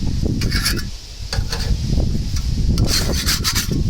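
Gas grill grates being scraped clean with a tool, a rough repeated rasping and rubbing that comes in several strokes, close and fairly loud, with no talk.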